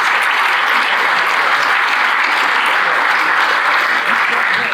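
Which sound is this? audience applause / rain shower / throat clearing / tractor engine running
audience applause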